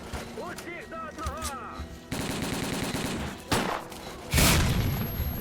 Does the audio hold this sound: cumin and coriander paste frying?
no